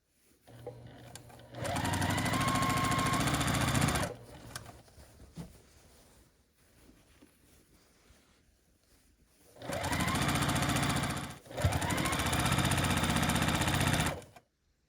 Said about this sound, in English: I'm just going to work row by row, sewing these together and then sewing all the rows together